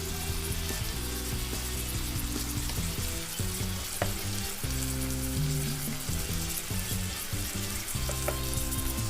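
Masala with red chili powder, salt and cumin powder frying for karela with gur, a dense continuous sizzle with occasional clinks and scrapes of stirring, close and steady without talk.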